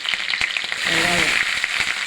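Sliced onions with green chilli, cinnamon, cloves, fennel and cumin hit hot oil for a masala, giving a steady close sizzle and light crackle with no speech.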